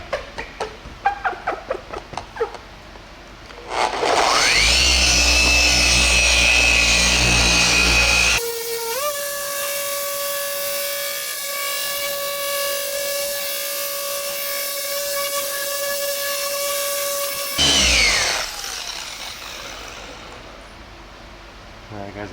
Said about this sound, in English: I'm going to go back and hit it with the polish to get any other imperfections